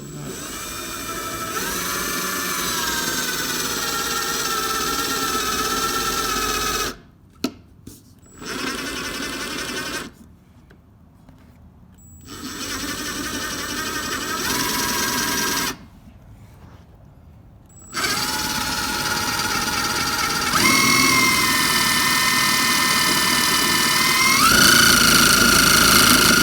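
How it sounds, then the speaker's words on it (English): Power drill boring holes in a Ford Mustang's cosmetic quad side exhaust tips, a loud, steady high-pitched whine that runs in long bursts, broken by a few short pauses and stops. "Let's get her drilled out."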